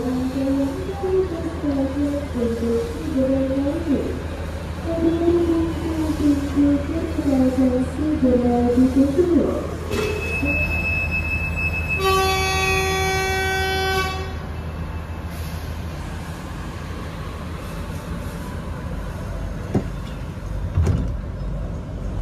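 A Pramex local passenger train in Yogyakarta, Indonesia, rolls along with a steady low rumble and rattling, interrupted midway by a series of bright electronic chimes or beeps.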